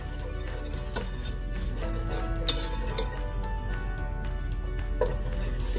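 A wire whisk stirs flour roux in a pan, clinking and scraping steadily with faint sizzling underneath, close and continuous.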